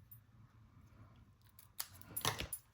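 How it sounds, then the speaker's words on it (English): Scissors snip through patterned designer paper, a few soft cuts followed by a louder cluster of quick snips near the end, close and otherwise quiet. "All right, snips, guys, snips."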